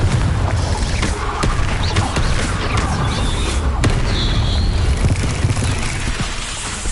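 Confringo spell explosions in the video game Hogwarts Legacy, booming blasts and crackling bursts within a dense, loud stream of combat effects.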